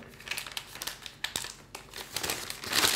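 A plastic piping bag fitted with a plain nozzle being twisted closed: close, brittle crinkling and rustling of thin plastic in short bursts, growing busier toward the end.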